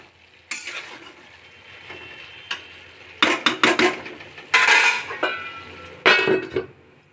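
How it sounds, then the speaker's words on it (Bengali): Potatoes and cabbage stirred in a pan for a shrimp and cabbage dish, with several scraping, clattering bursts of spatula against metal between quiet pauses and a faint sizzle underneath. "আলুটাও দিয়ে দিলাম, দিয়ে ভালো করে নেড়ে ঢাকা দেব।"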